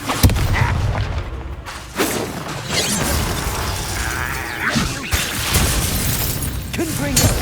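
Expulso blasting spells burst in Hogwarts Legacy with heavy booms and shattering crashes, several loud impacts amid continuous battle noise and game voices.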